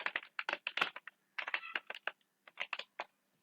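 Keys clatter on a computer keyboard as Python code is entered, in quick close bursts of crisp clicks separated by short pauses.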